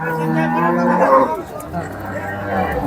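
A cow at a cattle market lets out a loud, close moo at the start, followed by a lower, quieter moo near the end. Faint background market noise runs underneath.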